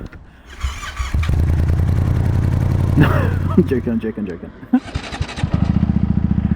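A loud motorcycle engine rumbles and revs up close, with a brief spoken remark midway, settling into a throaty, pulsing idle.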